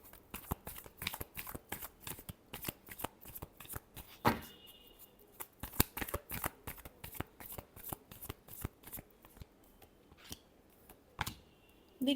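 Tarot cards being shuffled by hand, a rapid run of crisp riffling snaps and flicks with brief pauses between bursts, close and fairly quiet, with no talking.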